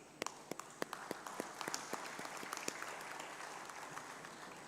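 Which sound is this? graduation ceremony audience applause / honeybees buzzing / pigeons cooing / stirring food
graduation ceremony audience applause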